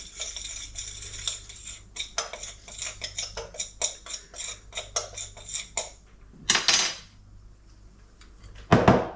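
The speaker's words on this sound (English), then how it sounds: "We'll give that a mix." A metal utensil clinks and scrapes against a pan while a spicy chili-flake mix is stirred, giving a run of quick, sharp taps and scrapes, close and fairly loud, with a few heavier knocks near the end.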